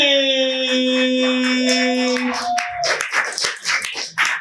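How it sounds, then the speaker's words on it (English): A sustained tone gives way to a burst of scattered hand clapping from a youth poetry slam audience, uneven and lively, swelling and fading in waves. "keep the hands clapping"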